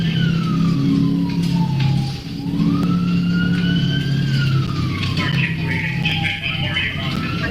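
A police vehicle siren wails loudly and close, sweeping up and down in long slow cycles over a low engine rumble, with a brief dip partway through.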